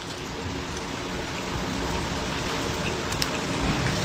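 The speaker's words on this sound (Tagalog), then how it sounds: "Sana matigil naman ang ulan" Steady rain hisses evenly and fairly loudly throughout, a continuous wash of noise with no pauses and no clear voices over it.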